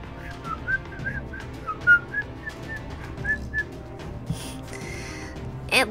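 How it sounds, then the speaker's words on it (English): A character in Fate/Grand Order whistles nonchalantly: a clear, wavering, tuneful whistle of short rising and falling notes, followed by a few brighter game sound effects near the end. "Whistles nonchalantly."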